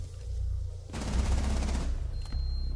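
Rapid automatic gunfire from a competitive shooter match tears out in a loud, dense burst, then trails off into softer background game noise.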